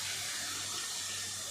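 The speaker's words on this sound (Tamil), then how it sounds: "இப்போ இதில் கொஞ்சமாக தண்ணி சேர்த்துக்கலாம்." Water pours steadily into a pan of carrot and beans stir-fry during cooking, a continuous loud splashing gush lasting a moment with no talk.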